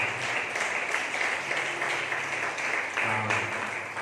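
At a Sunday church service, a congregation claps its hands in praise. The applause is dense and continuous and fills the room throughout, with faint voices beneath it.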